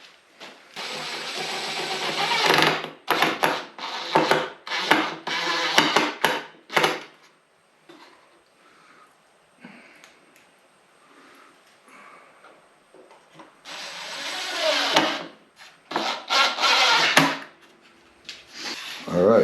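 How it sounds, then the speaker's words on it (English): Screws driven into wood to fix a stop on a miter saw setup, heard as two loud bursts of whirring driver with ratcheting, the first about seven seconds long and the second a few seconds later after a quiet pause. "So I am going to go ahead and do that and screw it into place."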